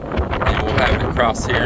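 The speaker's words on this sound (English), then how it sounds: "Sorry for that wind. It is really windy up here right now" Strong wind buffets a microphone on a windy beachside rooftop in the Philippines, a steady low rumble under a man's speech throughout.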